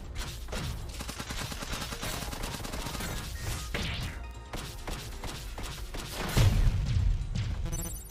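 The Gunner's gun firing in One Step from Eden, a busy run of quick repeated shots and impacts over game effects, ending in a heavier thumping burst.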